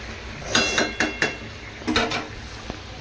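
Meat being stirred and sautéed in a pot, heard as a few light metallic clinks and scrapes of a spoon against the pot in two short clusters, quiet over a steady background hiss.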